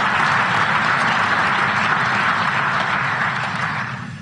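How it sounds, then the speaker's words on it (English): Sustained, dense audience applause fills a conference hall at the Munich Security Conference, steady and loud throughout before easing slightly at the end, with no voices over it. "I hope that's not the last bit of applause that I get"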